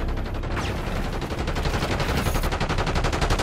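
Rapid automatic gunfire from a multiplayer match of Call of Duty: Black Ops 6, loud and continuous, with dense overlapping bursts of shots hammering throughout.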